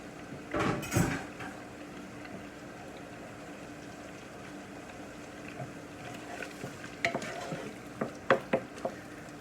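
Cut-up weenies cook with charro beans in a pan over medium heat, a soft, low sizzle and bubbling with a scrape of stirring early on and a few sharp clinks and taps toward the end.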